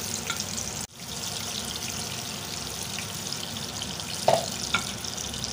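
Green chillies and masala sizzle and hiss in a pan with a little water added, a soft steady crackle broken by a short pause and a few louder pops and clinks.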